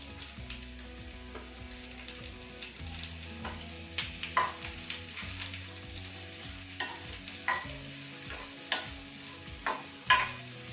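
Onions sautéing in a hot pan for broccoli sauce pasta, a continuous close sizzle broken by irregular stirring scrapes and clinks, with no one talking.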